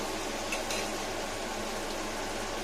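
Chopped onions dropped into a hot pan while cooking taro, setting off a dense, even sizzle and bubbling that holds steady and loud throughout.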